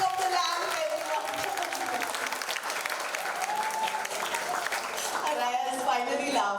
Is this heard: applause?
yes